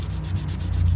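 Sandpaper of 60 to 100 grit rubbed over a curb-scratched alloy wheel rim on a Ford Connect, a close, steady rasping scrape in quick back-and-forth strokes about eight times a second.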